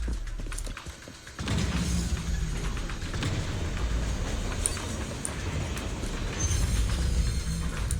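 Train in the Zenless Zone Zero video game, based on a North American diesel hybrid locomotive, with a continuous loud rumbling rail roll and rhythmic wheel clatter rising after a quieter opening second.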